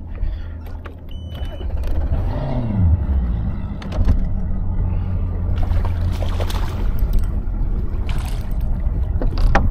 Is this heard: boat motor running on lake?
yes